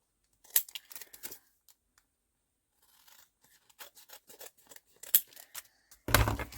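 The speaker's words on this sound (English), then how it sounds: "Just get me big scissors and it's easy to" Big scissors snip through paper in a run of crisp, close cuts, pausing briefly and then resuming with more cutting while making a Christmas journal, ending in a louder rustle of paper handling.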